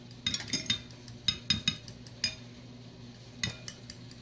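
Utensil clinking and scraping against a bowl while a mixture is beaten, a series of sharp metallic taps in quick bursts, close and moderately quiet, with no voices.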